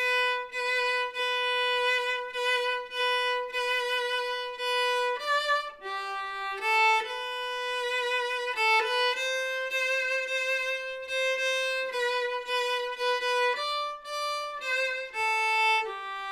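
A viola plays the final phrase of Jingle Bells alone, a clear bowed melody of repeated and stepping notes with short pauses between phrases.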